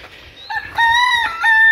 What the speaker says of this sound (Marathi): कोंबडा बघा